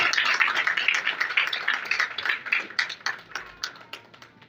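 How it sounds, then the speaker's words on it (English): A steady patter of hand clapping from a small group, dense at first and thinning out toward the end, with no voices. "She deserves a round of applause."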